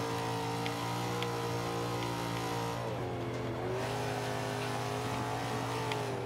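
A BMW 1M's engine in the Forza 5 racing game holds a loud, steady drone through fifth gear, briefly dipping in pitch as it shifts, then climbing and pulling on at high revs without speech.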